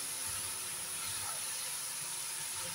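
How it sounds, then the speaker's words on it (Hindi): Cabbage with ginger and garlic frying in a hot pan, a steady, close sizzling hiss that holds evenly and loudly throughout. "ये देखो, अब मैं इसको बहुत अच्छे से फ्राई करूँगी"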